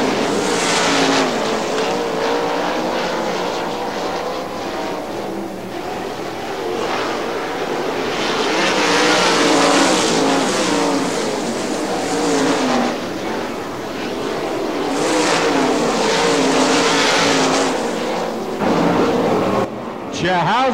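IRA 410 sprint race cars accelerate hard around Butler Motor Speedway in Quincy. Loud engines howl and rise and fall as cars pass close by, with a race announcer talking continuously over the roar.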